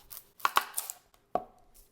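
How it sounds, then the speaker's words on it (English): A knife slicing the root and stem ends off an onion on a cutting board, a few sharp close taps and cuts in an irregular rhythm, with no talking. "So we're just gonna take off that, what I call the hairy bit of the onion, and then on the other end, you'll have a stem bit."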